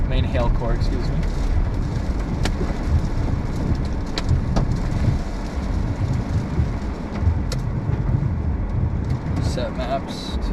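Hail and rain from a storm near DFW pelt a moving car, a dense, constant roar of impacts with sharp individual hailstone strikes throughout.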